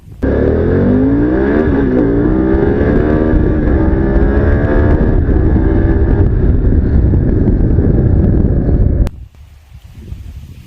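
A Harley-Davidson Pan America engine roars close and loud, pitch climbing and dropping as it shifts up through the gears, with wind rushing, then cuts off abruptly near the end.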